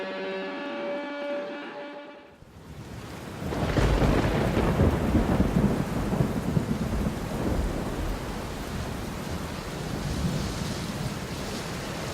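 At an outdoor music festival, a rumble of thunder breaks out after a brief tonal passage. Heavy rain then keeps falling in a steady, loud wash with more faint rumbles.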